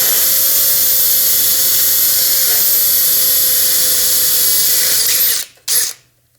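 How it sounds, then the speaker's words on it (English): Loud, steady whine of a power drill boring straight through a marked hole in a robot launcher chassis, running continuously for about five seconds before cutting off, followed by a brief second burst. "all I'm going to do is drill as straight as I can through that hole"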